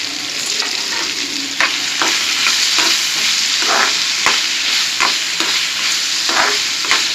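Vegetables frying in oil in a kadai, a loud continuous sizzle with repeated scraping stirs of a spatula, close and without talk.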